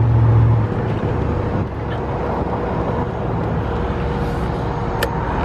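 A 1989 Avanti II-R convertible drives along a small road, its engine giving a steady low hum with road and wind noise, loud and close throughout.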